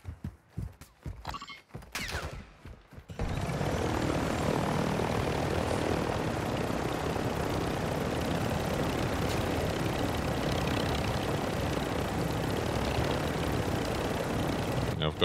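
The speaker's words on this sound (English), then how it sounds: "I've got a helicopter now" A helicopter's engine and rotor drone loudly and continuously in the DMZ game mode, starting after a few seconds of choppy noise and holding steady to the end.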